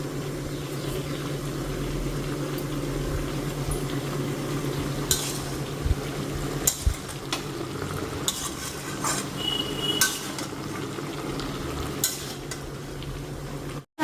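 Chili powder and bay leaves frying in hot oil for a mutton curry, a steady close sizzle with spoon stirring and occasional scrapes against the pan, no talking.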